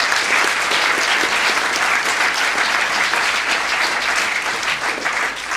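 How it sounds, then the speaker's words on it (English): A crowd at a mayoral candidates' forum claps loudly and continuously for the candidates, a thick, even roar of many hands that holds steady and eases slightly at the end. "can we just give the candidates again another special round of applause?"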